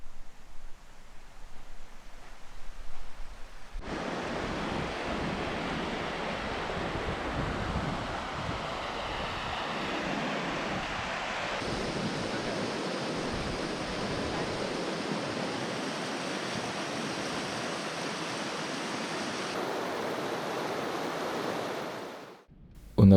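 A river rushing past a campsite in Georgia, a loud, steady broadband roar of flowing water with wind-like hiss that persists without a break, no voices.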